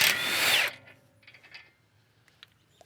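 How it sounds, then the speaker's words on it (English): A power tool whirs loudly for about half a second, spinning off the CV axle nut on a Subaru Forester, then falls silent, followed by faint metallic clinks and handling sounds nearby. "I'm gonna take off the CV axle nut."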